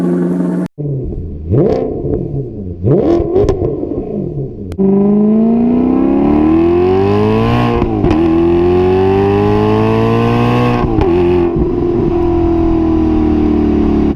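A powerful Ford Mustang GT V8 engine idles roughly with a few short blips, then revs hard past 5,000 RPM and holds a loud, climbing roar, easing and surging again before settling.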